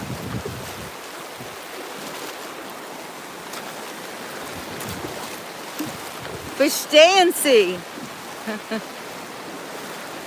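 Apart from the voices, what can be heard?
ocean waves in the Gulf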